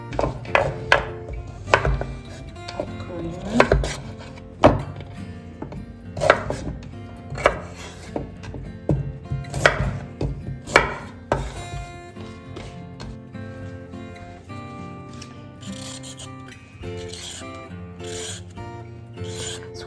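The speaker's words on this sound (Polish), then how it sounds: "Obiorę te warzywa, wrzucę do garnka" Vegetables being peeled for a Christmas Eve mushroom soup make close, rhythmic scraping strokes that give way to softer, irregular rubbing later on, with no talk.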